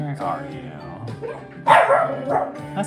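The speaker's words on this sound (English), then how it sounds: "That's my dog." A pet dog barks indoors in a few sharp, close bow-wow bursts mixed with whimpery yips, while a person talks over and between the barks.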